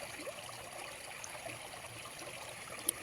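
A faint, steady trickle of water running continuously, quiet and close, with a single small click near the end.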